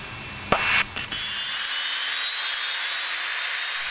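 Jet engine roar from inside a fighter jet cockpit at takeoff, a steady broadband rush with a rising whine, after a few brief loud knocks and clunks near the start.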